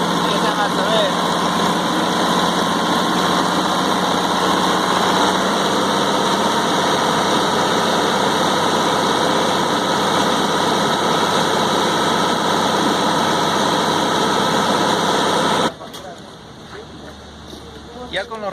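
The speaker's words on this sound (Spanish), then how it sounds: "aceleramos el motor y como podemos ver algunos parámetros empiezan a subir" A car engine runs loud and steady for about sixteen seconds with a constant broadband roar, then cuts off abruptly, leaving a quiet room.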